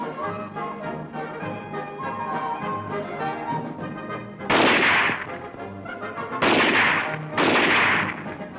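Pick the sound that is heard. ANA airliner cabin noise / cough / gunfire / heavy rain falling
gunfire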